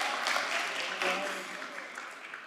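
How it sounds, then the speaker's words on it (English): An audience applauds at a commission meeting for high school award winners, a moderate burst of clapping that gradually fades, with a voice faintly underneath. "we can do a lot better on the applauses here"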